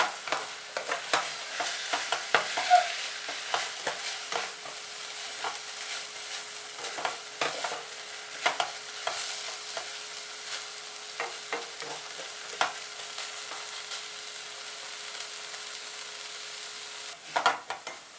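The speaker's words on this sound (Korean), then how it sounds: "이렇게 콘소메에 양파 볶았습니다" Onions sautéing for beef consommé, a soft steady sizzle with repeated scraping stir strokes of a utensil through the pan, close and alone with no talk.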